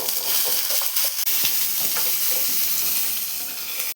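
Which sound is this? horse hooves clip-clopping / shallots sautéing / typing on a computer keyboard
shallots sautéing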